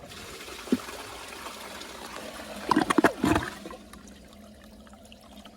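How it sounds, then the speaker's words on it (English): A 2002 Crane Atlas toilet flushes, water rushing and gurgling in a short burst of a second or so after a brief clunk, then settling into a faint trickle as the bowl empties. "I'm gonna empty all the water out."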